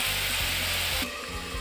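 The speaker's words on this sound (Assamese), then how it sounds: "ঢাকন দি পেলাই কম ষ্টিমত বস্তুটো ভালকৈ সিজিবলৈ দিছোঁ।" Taro leaves and broiler chicken curry simmer covered in a pan over low heat, giving a steady close sizzle and hiss with soft bubbling that drops slightly in level partway through.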